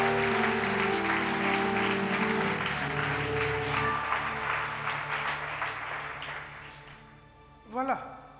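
A church congregation applauds the Lord, with loud sustained clapping and cheering under voices that slowly fade toward the end.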